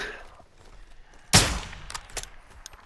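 One sharp, loud gunshot cracks out in a video game, followed by a few fainter pops and echoes against a low background of ambient game sound.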